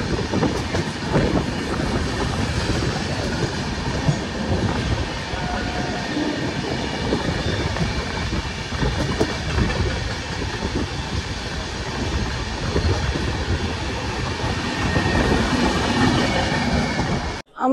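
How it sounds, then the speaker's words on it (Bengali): The Jan Shatabdi Express runs between Belda and Jaleswar, a loud, continuous close rumble of wheels on rail with rhythmic clickety-clack and faint squealing, sustained throughout with no voices. "বেলদা জালেশ্বরের মধ্যে আমাদের এই ট্রেন অতিক্রম করবে 33 কিলোমিটার ডিস্টেন্স।"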